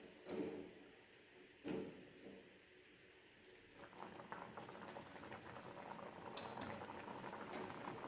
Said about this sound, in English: With continuous stirring, boil for 2 minutes.